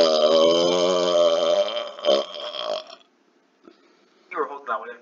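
A long, loud, sustained burp with a wavering pitch runs for about three seconds, then gives way to near silence and a couple of short bursts of voice or laughter.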